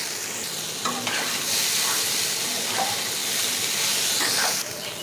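Potatoes and soybean chunks frying with onions and a splash of water in a pan, a steady loud sizzle with stirring scrapes throughout and no talking.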